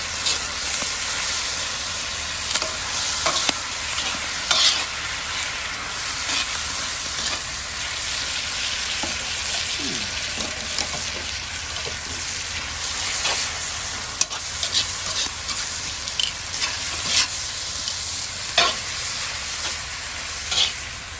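Steak fajitas stir-frying in a Lodge cast iron wok set over a Weber kettle grill, giving a steady, loud sizzle and hiss throughout with occasional scrapes and clinks of stirring.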